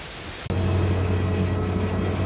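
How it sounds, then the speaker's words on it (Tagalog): A waterfall swollen by the previous day's rain roars in a dense, steady rush of water that fills the scene, loud and continuous after a brief cut at the start. "Ayan, sa likod ko yung falls. Malakas yung water kasi umulan kahapon."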